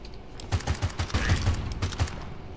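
A revolver fires in the video game Cryptis: roughly eight sharp shots in an even, fairly quick rhythm, close and punchy over a steady low game background.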